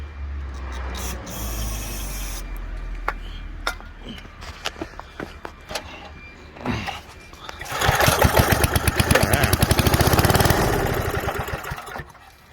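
A Billy Goat blower, dug out of the curbside trash and holding old varnished fuel, is pulled and sputters before its small engine catches and runs loudly, with a fast, rattly pulse that fades near the end.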